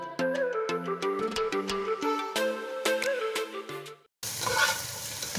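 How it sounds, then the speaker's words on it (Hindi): Capsicum and cabbage for chicken chow mein are stir-fried in a hot pan, the sizzle sitting under melodic music at first before a brief, clearer burst of frying noise. "ये आप देख सकते हैं मैंने हल्का सा इसको फ्राई किया है।"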